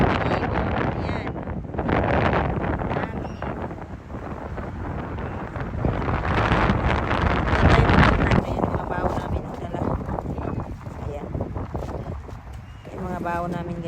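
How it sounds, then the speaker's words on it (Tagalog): Strong wind buffets the microphone in loud, rumbling gusts throughout, with a faint voice underneath and a brief chirping sound near the end. "Lakas ng hangin"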